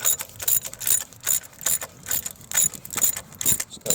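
A ratchet turns a big bolt on a 2011-2015 Nissan Rogue CVT transmission, with quick clicking bursts in an uneven rhythm up close.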